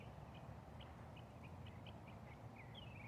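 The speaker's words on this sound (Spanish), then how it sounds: "contemplar con mis oídos la alabanza de los pájaros" Morning birdsong: short, faint chirps repeat every half second or so at a distance, ending in a longer sweeping call, all over a steady wash of background noise.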